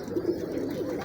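Pigeons cooing steadily and close by, with soft rolling low coos running through the whole short stretch, in a breeder's loft of prized pigeons.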